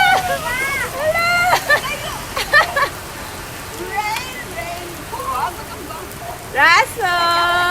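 Rain falls steadily outdoors as a child bathes in it, a soft even patter running underneath. High-pitched children's and adult voices shout and call over the top in several bursts.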